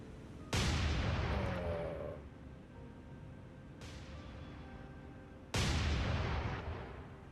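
Battleship main guns firing in War on the Sea, American fast battleship in the Pacific: two huge booming salvos a few seconds apart, each followed by a long rumbling decay, with a smaller crack between them; no talk.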